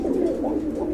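Big running pigeons for sale cooing nearby, a steady low warbling coo that pulses in soft repeated swells.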